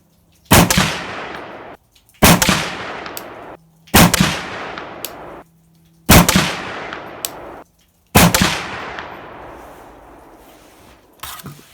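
Five loud gunshots from a PSA AR47 7.62x39 pistol with a 10.5-inch barrel, fired one at a time about two seconds apart at a shooting bench, each a sharp crack trailing off into a long decaying ring.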